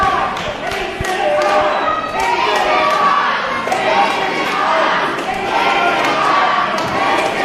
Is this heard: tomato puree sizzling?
no